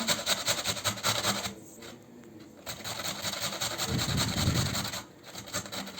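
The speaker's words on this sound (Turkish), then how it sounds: "Önce pancarlarımı rendeledim." Beetroot rubbed over the fine side of a hand grater in a home kitchen, a steady close scraping rasp in repeated strokes with a brief pause midway.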